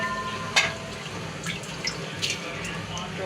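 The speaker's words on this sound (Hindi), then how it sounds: "जितना हमने दाल को बनाना है ना उसके हिसाब का पानी डाल देंगे" Water is poured into a mix of lentils, including mash, moong and masoor, for dal, giving a steady, moderately close trickle with a few drips and splashes.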